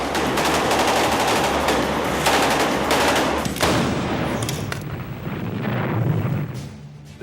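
Dense, continuous gunfire from a city battle in Huế in 1968, with rapid automatic bursts and heavier booms layered into a loud, unbroken roar that thins out near the end.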